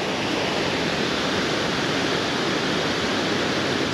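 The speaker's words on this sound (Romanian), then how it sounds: "Ascultați și voi sunetul acestui pârâu." Mountain stream on the way to Moldoveanu peak in Romania, a steady, full rushing of water heard up close with no pauses or voices over it.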